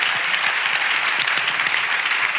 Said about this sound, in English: A big round of applause for my fantastic panel.